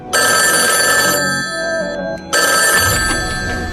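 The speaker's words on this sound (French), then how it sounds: "veiller toute la nuit sur un vieux téléphone qui n'avait jamais sonné" An old telephone bell rings loud and close in a long metallic trill, cuts out for a brief gap, then rings again.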